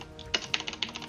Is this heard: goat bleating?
no